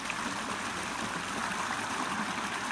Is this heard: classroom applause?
no